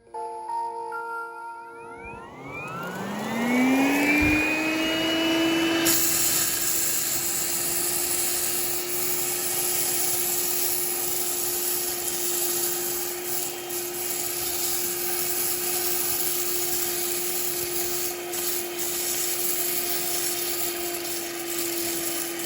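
A Coral One hand vacuum spins up and whines steadily at close range, its motor tone rising then holding level for a long stretch as it sucks up a cup of dry rice, with no talking.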